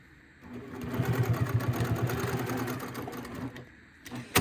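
A sewing machine stitches a Monopoly-house-shaped tissue box cover in one continuous run of about three seconds, close and moderately loud, starting and stopping cleanly with no speech.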